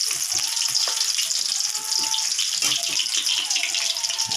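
Halved eggplant sizzles in hot oil tempered with black cumin seed, a bright, continuous crackling hiss close by, with small pops scattered through it at a steady intensity.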